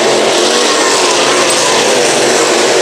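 Pro late model race cars roaring around the Brownstown Speedway oval during a heat race, a loud, continuous wall of engine noise with no breaks, close to the microphone.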